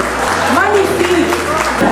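Dense applause from an audience at a cultural gathering fills the space, with a voice speaking over the clapping.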